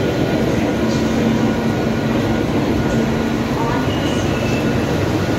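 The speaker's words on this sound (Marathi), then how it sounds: "पलीकडची ट्रेन आपल्या आधी गेली।" A Mumbai local train pulls out at Churchgate station, its steady low rumble and rail noise filling the platform continuously from start to finish, with no clear speech.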